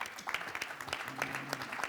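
An audience at a panel session on sport as an integration catalyst applauds briefly, a short patter of scattered claps at moderate volume with no voices over it.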